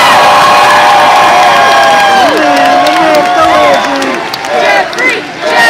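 A large crowd cheers and shouts loudly and continuously at Six Flags Fiesta Texas on New Year's Eve, with high children's screams and whoops swelling over the dense roar.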